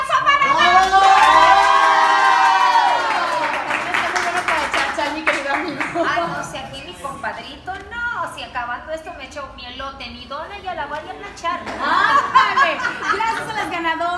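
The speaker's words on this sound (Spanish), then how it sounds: "Un aplauso para Dante" A lively crowd cheers, shouts and claps for a guest at a Monterrey radio event, high excited voices and whoops over scattered applause, with laughter and talking mixed throughout and a fresh swell of cheering near the end.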